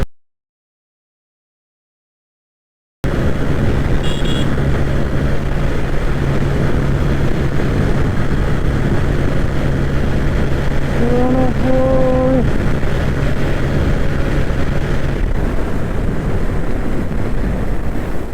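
A TVS Stryker 125 motorcycle holds its top speed on an open road, the engine's steady drone mixed with heavy wind rush across the microphone after a short silent start, with no break in the noise.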